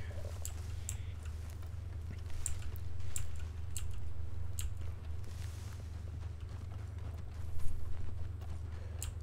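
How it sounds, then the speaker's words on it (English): Slow, sparse hoofbeats of a walking horse in the video game Red Dead Redemption 2 Online over a constant low rumble, fairly close and moderately quiet. "This is my horse, Lovely, just follows me."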